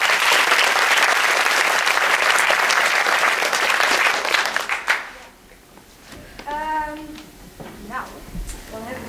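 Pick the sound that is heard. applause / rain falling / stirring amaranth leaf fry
applause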